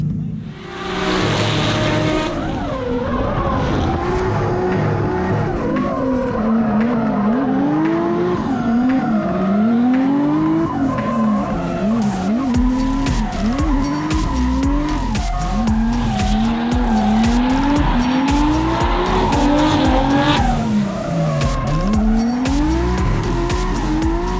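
A 400kW Nissan R32 drift car with a new front end runs a lap at a South Australian drifting round, its engine wailing loudly and rising and falling in pitch, while tyres squeal almost continuously across the whole pass.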